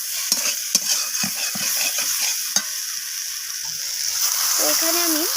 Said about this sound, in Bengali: তো আলু বেগুনটাকে আমি মশলার সাথে কষিয়ে নিচ্ছি।